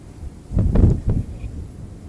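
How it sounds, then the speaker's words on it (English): Strong wind gusting through trees in a forest during a forest fire, heard as a couple of short, low rumbling blasts buffeting the microphone in the middle, with quieter air before and after. "And this wind, right?"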